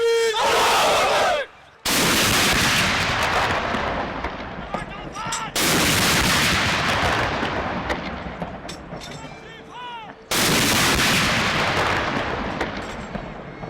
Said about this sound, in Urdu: پاک فوج کے چاق و چوبند دستے نے 21 توپوں کی سلامی دی